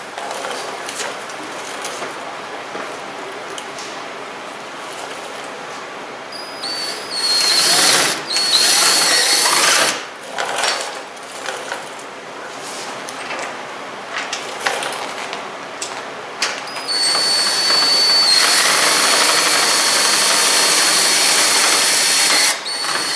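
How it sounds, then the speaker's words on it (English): A power drill bores holes for fender mounts on a Honda Talon side-by-side, running in several loud bursts of whirring with short pauses between, close by and alone. "So hold this up here tight until we get the other 2 holes drilled."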